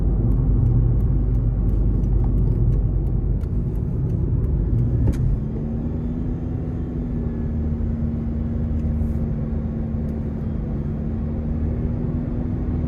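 Steady road rumble from inside a 2012 Scion iQ, with a thin continuous CVT whine holding at a constant pitch as the car drives along at an even pace.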